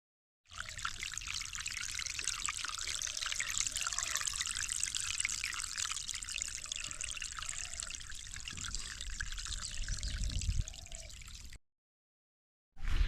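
Water trickles and pours steadily through a dammed stream channel set up as a primitive fish trap, a close continuous splashing flow lasting about eleven seconds before cutting off.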